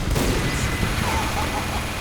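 Gunfire in the video game Team Fortress 2, a dense steady rattle of shots under continuous battle noise, loud and sustained without pause.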